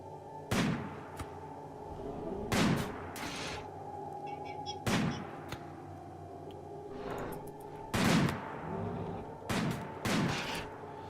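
Sniper gunfire in RimWorld: single shots crack out at regular intervals of a second or two over a steady low hum, each one moderately loud with a short decay.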